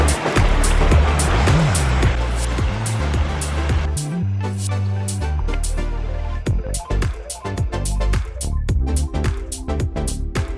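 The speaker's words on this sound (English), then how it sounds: "There's a little sheet falls right here and a crashing falls up there and over there." Waterfalls at a recreation pond, a thin sheet fall nearby and a crashing fall farther off, give a steady rush of splashing water. It is loudest in the first few seconds, with brief tonal sounds mixed in.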